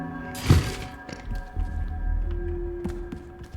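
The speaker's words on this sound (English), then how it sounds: "this is locking this door" A door locking in the puzzle video game Manifold Garden, a sharp crunching impact followed by a low sustained hum and a rising tonal drone, clear and close with no talking.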